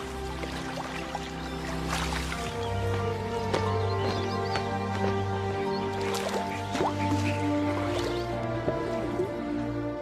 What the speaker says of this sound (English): Right across the delta, pied kingfisher splashes punctuate the peace and tranquility.